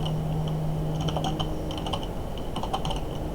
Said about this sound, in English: we're just going to type this over again